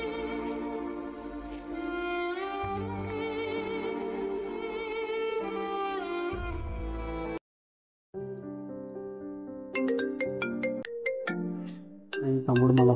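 A mobile phone placing an outgoing call plays a melodic caller tune for several seconds, cuts to a brief silence, then resumes with a sparser run of bright tones. No one speaks.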